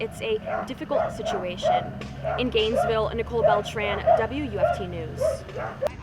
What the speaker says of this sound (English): And you can hear the dogs barking.